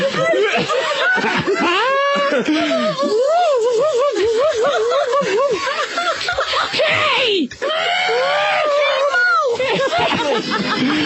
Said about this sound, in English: that's that woman on the tape. See, now I think she screams at me